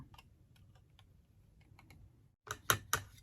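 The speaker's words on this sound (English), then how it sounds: "I'm going to cut this little sharp bit off here." Snips of metal shears trimming a sharp bit off a hand-made tin Christmas ornament: three crisp, close metallic cuts in quick succession after a stretch of faint, scattered ticking.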